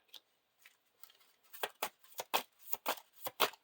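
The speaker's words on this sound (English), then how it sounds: "Shuffle the encounter deck." Cards being shuffled close up: a few soft riffles at first, then a quick run of crisp, evenly spaced flicks.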